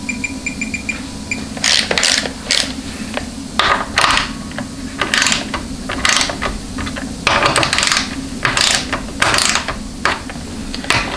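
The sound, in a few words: torque wrench ratcheting while tightening transmission bolts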